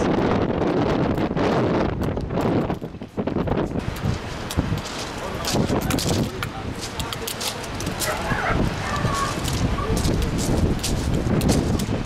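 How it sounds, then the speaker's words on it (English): Gusty wind buffets the microphone on the seafront at Brighton and Hove on a windy July day, loud irregular rumbling bursts rising and falling throughout, with a voice speaking over it. "Even though it's windy"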